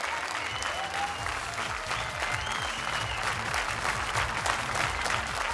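A large audience at the PTC Punjabi Film Awards claps loudly and continuously, a dense wash of applause filling the hall with a faint voice underneath.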